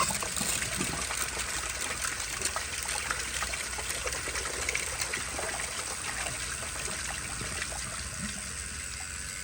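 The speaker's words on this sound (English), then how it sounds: "Let's give it a second flush and see what it does." A 10-inch miniature prototype Berlin toilet flushes, a steady close trickle and gush of running water that holds at an even level for about nine seconds, with no one talking.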